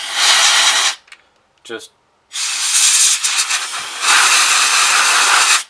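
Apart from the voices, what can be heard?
compressed air can blowing dust off red dot sight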